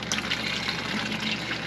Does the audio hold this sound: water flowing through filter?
yes